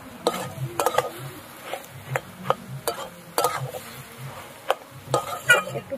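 Mixed winter vegetables for a ghonto are stirred and fried in a pan. A spatula scrapes in irregular strokes over a soft, low sizzle, fairly quiet and close.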